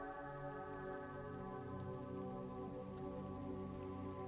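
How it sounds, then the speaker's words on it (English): Rain falls steadily during a tabletop role-playing game session, a faint continuous patter sitting under a background hum, with no one speaking. "you guys hear the rain?"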